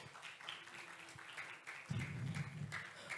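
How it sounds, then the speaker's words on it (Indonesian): Audience applause for a keroncong orchestra at a concert, a steady crowd clapping that swells louder partway through, with some background chatter mixed in. "Luar biasa, boleh tepuk tangan yang meriah."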